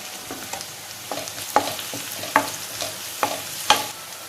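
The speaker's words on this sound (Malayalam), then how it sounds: "ഇതിലേക്ക് ഞാൻ ഒരു തണ്ട് കറിവേപ്പില ഇട്ട് കൊടുക്കുകയാണ്" Curry leaves and crushed chili hit hot oil in a pan, giving a steady close sizzle with repeated sharp crackles and pops spaced roughly every half second.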